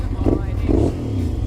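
A Suzuki SV650S motorcycle engine idles loudly and steadily at close range with a rough, throbbing rumble, while someone talks over it.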